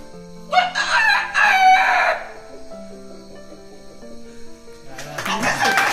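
A human voice imitates a rooster's morning crow with two loud, drawn-out calls close up, followed after a pause by a short third call.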